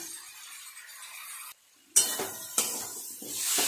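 Spoon stirring a thick cashew, char magaz and poppy seed paste with vegetables in a hot wok for a vegetarian navratan korma, a few scraping clinks against the metal over a soft sizzle.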